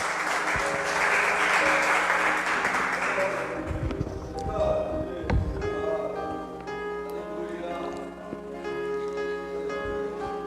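A church congregation claps and cheers loudly for several seconds after a sermon, then the applause thins out as music and a voice come through underneath.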